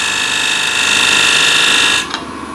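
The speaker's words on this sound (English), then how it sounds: "use it as a shear scraper like so" A hand scraper shear-scraping a surface, held at a slicing angle so it won't grab, gives a steady, close, rasping hiss for about two seconds, then stops with a brief scrape.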